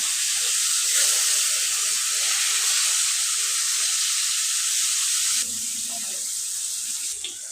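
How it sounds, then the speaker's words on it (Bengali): Fish shallow-frying in hot oil, a steady loud sizzle that crackles evenly throughout and drops slightly in level toward the end, with no voices over it. "মাছটা আমি লাল করে ভেজে নেব"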